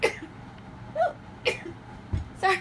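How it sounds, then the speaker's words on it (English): One person gives a series of short, sharp sneezes, about four bursts spaced unevenly over a couple of seconds, each one abrupt and fairly close, with quiet in between. "Sorry, I'm sneezing."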